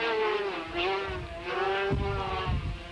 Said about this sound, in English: Lead coming towards the end now of the sidecar race here at Snetterton